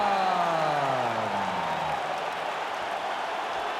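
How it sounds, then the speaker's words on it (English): A fight-game arena crowd in UFC 5 cheers and applauds after a TKO win. The crowd noise is a loud, dense wash, and a descending electronic sweep fades out over the first two seconds. "What a moment, what a reaction from this crowd"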